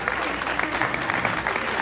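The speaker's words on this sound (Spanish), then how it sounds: "un aplauso por favor para ese fanático de la Fórmula 1" Audience applause for a Formula 1 fan at a Suzuki event in Ecuador: a short, steady burst of clapping from a crowd, dense and fairly close, with some voices mixed in.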